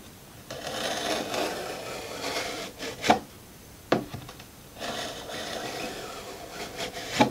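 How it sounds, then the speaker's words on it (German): A marking gauge scribing a 5 mm line on wood for a hand-planed sliding dovetail joint, heard as close, dry scraping strokes with a few sharp knocks between them. "Jetzt werden hier 5 mm angerissen."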